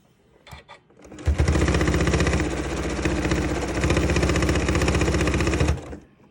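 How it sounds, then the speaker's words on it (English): A sewing machine runs steadily for about five seconds, top stitching around the edge of a fabric hexagon trinket bowl, with a rapid even needle rhythm that is close and fairly loud, after a few brief clicks and starts. "So just keep going all the way around in your top stitching."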